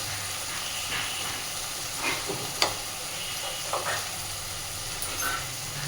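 A spice paste of chili, cumin and coriander powder fries in a pan, giving a continuous, even sizzle and hiss close by, with a few faint scrapes of stirring and no voices.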